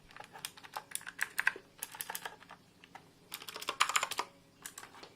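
Typing on a Redragon Varuna keyboard: close, crisp clusters of keystrokes come in uneven bursts with short pauses between them, and no talking.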